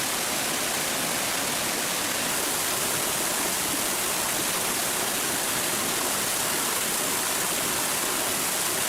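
A forest stream flows in a constant, full rushing wash of water, steady and fairly close with no breaks, talk or other sounds.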